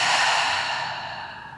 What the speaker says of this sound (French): Ouvre ta bouche et expire.